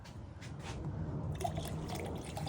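Beer pours into a glass for a michelada, a soft continuous liquid fill and trickle with faint fizzing, close and quiet, alone without talk.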